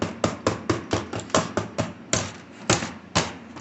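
Hammer blows land in a quick, fairly regular series of about a dozen sharp, ringing impacts, close by and loud, with a brief pause partway through.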